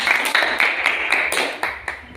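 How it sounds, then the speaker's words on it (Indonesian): A school class applauds its drama group, producing a series of distinct, fairly even hand claps close by with a faint tonal hum behind them. "Tepuk tangan untuk kelompok drama"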